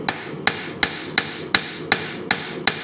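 Regular hammer blows ring out on a steel knife blade being hand-forged, hammer held at an angle on the edge, about three per second, each a sharp bright strike with a short decay, close and loud over a faint background hiss.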